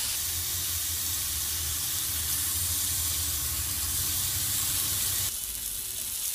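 Chicken breast pieces sizzling on a hot grill pan for a diet chicken salad, a steady loud hiss and crackle running throughout, with a brief change in texture near the end.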